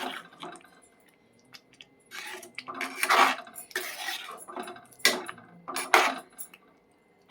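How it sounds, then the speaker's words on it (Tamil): Paneer stirred in a metal pan while palak paneer cooks gives clinking, scraping bursts of spoon against the pan, moderately close, with wet, sloppy movement between the strokes. "பன்னீரை சேர்த்து கிண்டிக்கலாங்க. நல்லா கிளறிக்கலாம்."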